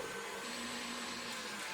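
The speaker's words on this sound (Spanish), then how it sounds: "Para ir más rápido, utilizaré esta batidora" An electric mixer whips cream with sugar, its motor whirring at a constant pitch, a continuous buzzing hum close by, with no pauses or talking.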